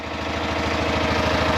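A 1999 Polaris Sportsman 500 ATV engine runs after its carburetor was cleaned, a close, loud, rhythmic putter that steadily builds in level.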